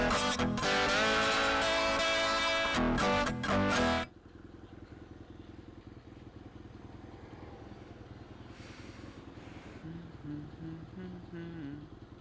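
Old Royal Enfield motorcycle engine, loud and close at first with a harsh mechanical roar, then dropping to a lower steady running drone on a road.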